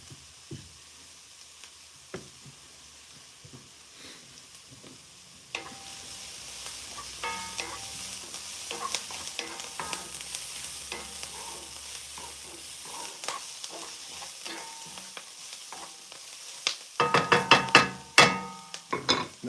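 Onions and garlic fry in a pan for an Egyptian omelette, giving a steady soft sizzle with occasional stirring scrapes that grows louder and busier near the end.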